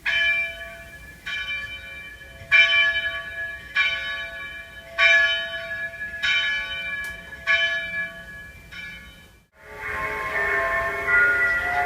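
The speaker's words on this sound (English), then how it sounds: "it plays 3 different churchy sounds, 2 series of bell chimes" A church bell rings out in a slow series of about eight resonant strikes, each ringing into the next, followed by a brief gap and a broader, noisier wash of sound.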